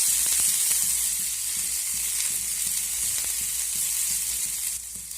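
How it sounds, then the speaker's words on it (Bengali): Cumin, chopped green chili, ginger and garlic sizzle steadily in hot oil in a pan, a continuous bright hiss with faint stirring ticks throughout and no talking. "এখন আমি এর মধ্যে দিয়ে দেবো কুচিয়ে রাখা কাঁচা লঙ্কা, আদা আর রসুন। সব কিছু ভালো করে ভেজে নেব।"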